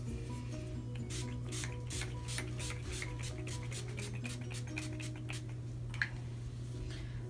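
Quiet spritzes of a makeup setting spray bottle, a run of short hissing bursts over a steady low hum, with one sharper click near the end.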